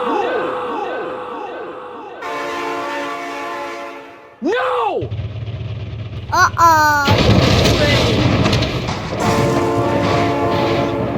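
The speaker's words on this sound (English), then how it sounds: "Oh my god, train!" Train and horn in the BeamNG.Drive driving game, with loud sustained synthetic horn blasts and a rumbling rolling train that grows close and heavy, while a person shouts excitedly over it.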